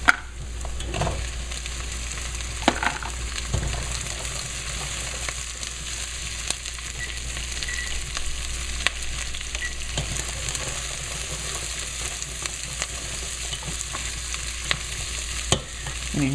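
Chopped celery frying and being stirred in a pan, a steady close sizzle with repeated scraping stirs and occasional knocks against the pan.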